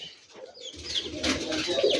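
A Rajshahi Giribaz pigeon coos softly after being released outdoors, its low calls blending with a steady rustling background and no voices nearby.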